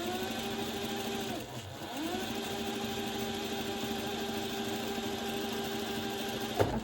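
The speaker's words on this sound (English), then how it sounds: "with my new sewing machine, so I'm kind of excited that I finally get to use it" A new home sewing machine stitches a zippered project bag, running as a steady, quiet mechanical hum with a short pause near the middle before resuming, with no talking.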